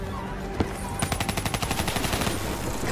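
Rapid automatic gunfire in a Black Ops 3 video game, a single sharp shot followed after a pause by a steady burst of evenly spaced rounds lasting about two seconds, loud and close.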